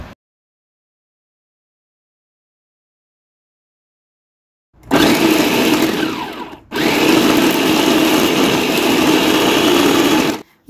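An electric chopper whirs loudly as it minces beef with garam masala, black pepper and salt for seekh kebabs, starting after a long silence, pausing briefly, then running steadily for several seconds.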